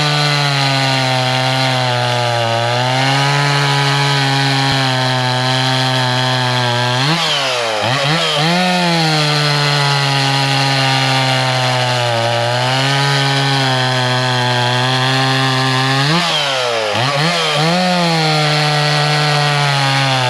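Loud, close Stihl chainsaw, an MS170 or MS260, with a Stihl chain cutting wood: a steady high engine whine under load, dipping twice as the chain bites deeper, then recovering.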